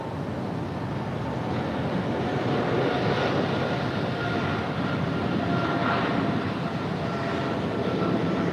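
Delta Airlines Boeing 767-400ER in SkyTeam livery arriving at LAX from JFK, a broad steady jet roar at moderate distance, sustained and unbroken without speech.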